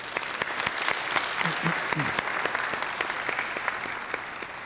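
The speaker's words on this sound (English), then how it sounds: "let's have a round of applause for our staff and for our volunteers" Steady audience applause at a university final presentation evening, honoring staff and volunteers; dense, even clapping fills the whole stretch with a few brief voice-like tones mixed in.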